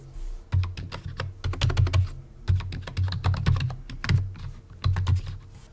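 Password being typed on a computer keyboard at a Linux terminal: bursts of quick, close key clicks in irregular clusters with brief pauses between them, heard alone.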